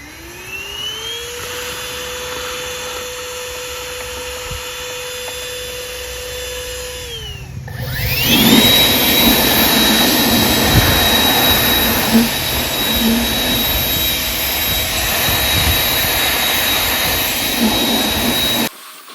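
Snapper Hi-Vac lawn mower engine running steadily, loud and close, after a change in pitch around the middle where the engine note rises and settles into a constant high whine with continuous roar.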